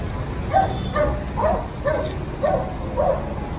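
A dog barks six times in an even, repeated rhythm at moderate distance, short sharp yips standing out over a quiet background; the dog is at a market stall.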